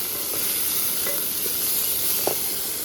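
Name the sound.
frying in a pan after adding salt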